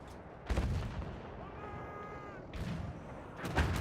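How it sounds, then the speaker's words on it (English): Mortar fire in The Division, an Incursions 5v5 match on PS4: three heavy booming impacts spaced about a second or two apart, moderately loud, with faint tonal game effects between them. "the virtual team is definitely going on with mortar against the other mortar"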